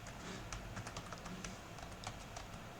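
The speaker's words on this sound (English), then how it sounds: "I'm going to type here python manage.py" Rapid, irregular keystrokes on a computer keyboard as a terminal command is entered, close and fairly steady with no voices.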